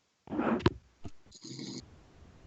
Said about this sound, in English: Sounds like somebody's trying to seduce me with their breathing into their microphone.